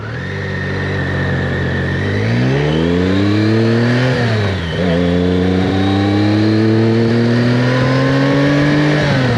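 BMW K75 S motorcycle engine revving on a test ride, loud and close, the pitch climbing through the gears, dipping briefly, then rising again in a sustained drone.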